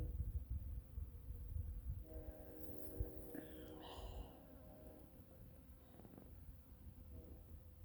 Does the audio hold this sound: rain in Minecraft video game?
no